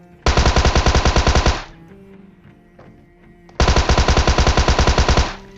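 A Thompson submachine gun firing in a video game: two loud, close bursts of rapid automatic fire, each lasting over a second, separated by a short lull with faint game ambience.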